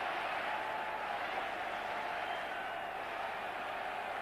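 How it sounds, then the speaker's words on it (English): At Twickenham, a rugby stadium crowd cheers after a well-struck kick in a 1988 England versus Wales Five Nations match, a broad, steady roar of cheering and applause heard from a distance, sustained throughout. "A great cheer all around Twickenham."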